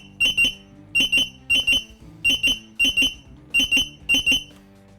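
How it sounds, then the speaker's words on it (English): A Draeger X-am 3500 or 8000 gas detector sounds its PID alarm, a shrill electronic double beep repeating steadily about seven times, close and clear. "I'm going to give myself a quick little PID alarm here"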